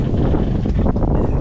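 Strong wind of about 15 knots buffeting a sailboat with the mainsail up, a steady low roaring rush and microphone buffeting that continues for the whole moment without a break.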